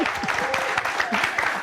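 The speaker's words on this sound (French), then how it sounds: "acclamation pour ce jeune garçon, Sofiane." Applause for a young boy at a Burkina Faso radio-television show, steady clapping filling the whole stretch with a voice speaking over it.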